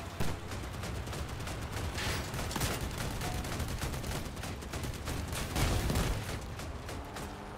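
Dense gunfire and rocket blasts from armored battle vehicles in the video game Crossout, with rapid overlapping shots and heavier booms clustered throughout. The firing is loud, sustained and close.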